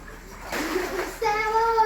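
Water splashes briefly, followed by a voice chattering close by.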